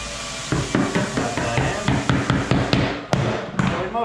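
Nails are hammered into an inlaid wooden floor vent set in hardwood, a steady series of about a dozen sharp close hammer blows at a fairly even rhythm, with no talking.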